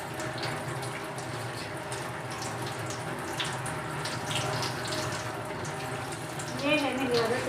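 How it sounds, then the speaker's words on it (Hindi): Water runs steadily from a tap over minced mutton held in a flour sieve, a continuous rushing splash under the clatter of the sieve in a home kitchen, with a brief louder burst near the end. "मैंने हमेशा छलनी में डाल के वॉश करना होता है, आटे वाली में।"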